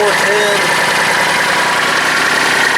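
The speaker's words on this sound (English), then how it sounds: "my tractor's warming up" A steady, loud Kubota tractor engine of about 40 horsepower warms up at idle close by, a constant low rumble with a droning mechanical hum that holds even throughout.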